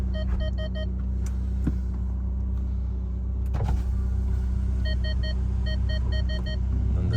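Electric motor whine of the rear window on a 2018 Ferrari 488 GTB Spyder, heard in several short bursts over a steady low rumble inside the cabin, with a soft click in between.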